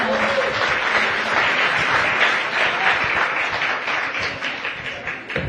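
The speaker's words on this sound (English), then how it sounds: "One more round of applause for our amazing panel." Round of audience applause for a panel at a climate conference session, a crowd's steady, close clapping filling the room for several seconds before easing slightly at the end.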